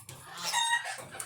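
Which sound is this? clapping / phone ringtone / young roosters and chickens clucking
young roosters and chickens clucking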